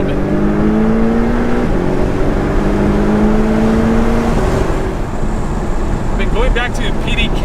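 A 2018 Porsche 718 Cayman GTS accelerates under throttle, its engine note rising steadily and loud inside the cabin, then shifting gear with a brief dip before climbing again amid road and wind noise.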